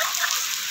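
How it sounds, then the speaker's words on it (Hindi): Heavy rain pours onto a village house veranda, a dense, steady hiss that fills the whole short moment with no breaks. "बरामदे बहुत ज्यादा बारिश आ गई"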